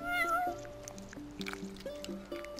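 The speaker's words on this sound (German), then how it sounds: "Liebe Katze, wir haben was für dich." A cat meows in Final Fantasy XV, one drawn-out meow up close at the start, followed by soft ambient game music and faint clicks.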